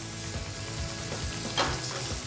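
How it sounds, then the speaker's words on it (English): Steady loud sizzling and bubbling as chicken stock hits a hot frying pan to deglaze it, continuous and close, with a brief sharper hiss partway through. "Deglazing the pan basically means washing the pan and lifting off all that flavour stuck to the bottom"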